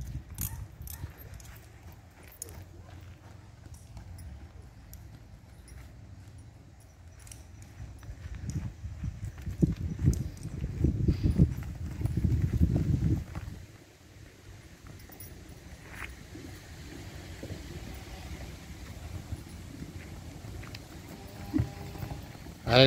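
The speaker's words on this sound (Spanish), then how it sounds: "este caballo anda bien" A purebred registered Criollo horse walks with steady, dull hoof clip-clops and some rattling noise, growing louder and heavier partway through, then easing back.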